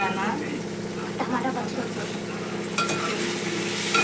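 Curry with tomatoes sizzles in a pan while being stirred, a steady close frying hiss with occasional scraping, under background talk.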